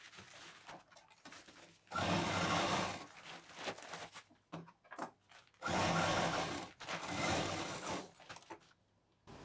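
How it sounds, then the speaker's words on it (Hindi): Sewing machine stitching a fabric strip onto leftover fabric for a homemade doormat, running in several loud, close bursts of steady whirring, separated by short pauses with light handling clicks. "तो इसको पहले हम एक पट्टी को यहाँ पर सिंपल इस तरह से सेंटर से रखते हुए सिल लेंगे।"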